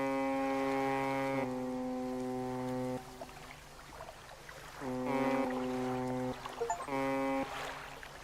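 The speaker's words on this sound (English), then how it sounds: "Hear a foghorn echo." Deep, sustained foghorn blasts in the fishing game Dredge, several long harmonic tones that echo across open water, with quieter gaps of ambient sea between them.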